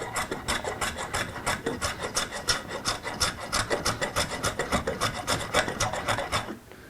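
Hand-filing or rasping wood on a shop-built table, a steady rhythmic back-and-forth scraping of roughly 35 quick strokes, close and fairly loud, stopping just before the end.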